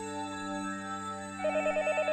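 A telephone ringing in the video game Higurashi, a faint steady electronic tone that turns into a pulsing ring partway through, with no talk.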